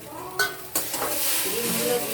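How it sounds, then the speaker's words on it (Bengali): Eggs hit a hot pan and burst into sizzling: a brief clatter and faint frying at first, then a sudden loud sizzle that holds steady, close and without talk. "ডিমগুলো দিয়ে দিই"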